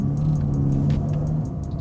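A Ferrari Roma GT's engine accelerates with a steady, loud low rumble and a sustained droning tone, close and continuous with no talk over it.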